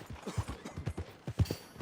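A horse's hooves clip-clop in a quick irregular rhythm of hollow thuds, close and clear, in a video game.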